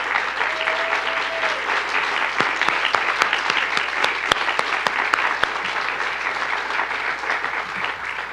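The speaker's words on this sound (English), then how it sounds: "please give them a round of applause" Sustained applause from an audience at a college of medicine gift announcement, a steady wash of many hands clapping for the full stretch, with a few sharper nearby claps standing out midway and a brief tone early on.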